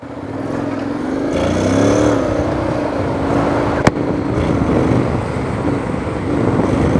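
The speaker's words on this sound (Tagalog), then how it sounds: "Di siya masyado maingay kasi mahaba yung exhaust niya." A 2025 Honda X-ADV750 scooter fitted with an Akrapovic exhaust, its silencer removed, idles and revs nearby, producing a steady, smooth engine rumble that swells briefly and carries one sharp click in the middle.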